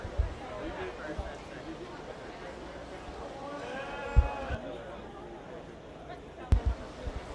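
Black face breeding ewes bleat at a 4-H/FFA sheep show, several calls rising over a busy hall of crowd chatter, with a few thumps and knocks along the way.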